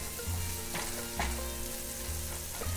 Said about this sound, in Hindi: तड़का हमारा भुन गया है और मसाले ने अपना फ्लेवर छोड़ दिया है।